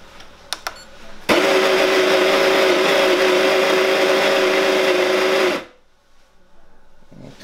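A home espresso burr grinder set to its finest number one grind runs steadily for about four seconds, a loud sustained mechanical whir with a tonal hum, starting abruptly and cutting off cleanly, with a few light clicks before it.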